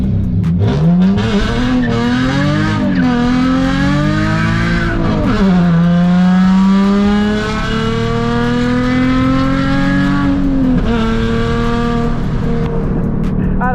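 A straight-piped Nissan 350Z drifts in second gear, its loud raw exhaust rising and falling in pitch through repeated revs, with tire squeal mixed in across the whole stretch.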